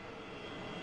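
Engine roar from an F-18 Super Hornet fighter jet, a dense steady rumble filling the brief moment, loud and continuous without any voices.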